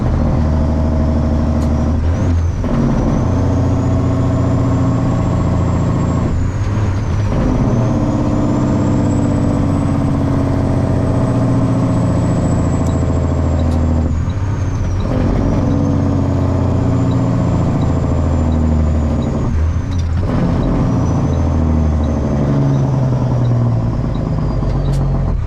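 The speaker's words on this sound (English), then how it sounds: "That's Jake brake." Truck engine running loud and steady with repeated deep rattling Jake brake bursts as it decelerates, several cycles with rising and falling pitch, close and dominant with no talking.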